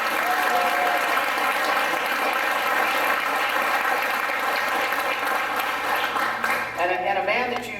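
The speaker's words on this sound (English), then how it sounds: "Can we give him a round of applause?" A crowd at a Veterans Day event in Oxnard applauds the new fire chief, James Monk, in dense, steady clapping that holds for several seconds before tapering off, with voices mixed in underneath.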